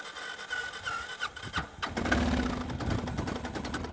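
A motorcycle, powered by a jump starter clamped to bare metal on the bike, cranks with a whine and then catches into a rough, steady running rumble nearby.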